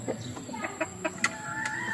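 Backyard Boston Roundhead chickens cluck nearby in short soft bursts, several overlapping calls including a higher squawk, with a constant high electronic hum behind them.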